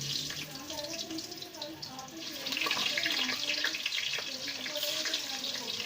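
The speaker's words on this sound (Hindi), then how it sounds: "1 बाय 1 करके इसको पीसेस को हम फ्राई करेंगे।" Potato sticks sizzle steadily in hot oil for a Turkish-style snack, with pieces lowered in one by one and a continuous close hiss of frying that swells midway, while a voice talks faintly underneath.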